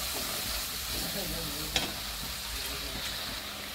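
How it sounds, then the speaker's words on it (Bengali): Gravy for a vegetarian vegetable curry comes to a boil in a pan, giving a soft, even bubbling hiss throughout with a single small clack partway through. "তো দেখো ঝোলটা ফুটে উঠেছে"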